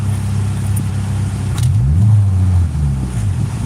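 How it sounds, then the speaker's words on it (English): Mitsubishi Lancer GSR engine revving during troubleshooting of a running fault: a steady low idle that rises into a single near, loud rev and falls back, then lifts briefly again before settling. "Rev it real quick."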